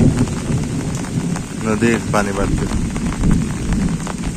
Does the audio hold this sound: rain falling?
yes